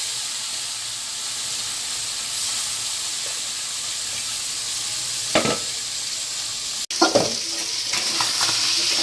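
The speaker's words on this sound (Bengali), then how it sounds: "মাছগুলো ভাজা হয়ে গেছে এখন নামিয়ে নেব" Fish fries in hot oil in a wok with a loud, continuous sizzle and hiss. A couple of sharper stirring clatters land in the second half, and no one speaks.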